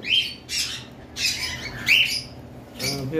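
A pair of red-eyed albino pet birds in a breeding box give loud, harsh squawks in four or five separate bursts, close by, with no voices.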